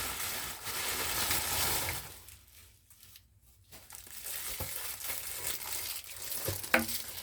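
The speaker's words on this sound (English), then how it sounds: "So I am going to go ahead and unwrap the strap." A Dooney & Bourke handbag strap being unwrapped, with steady crinkling and rustling of packaging that fades briefly midway and then returns with a few sharper crackles, close up and alone.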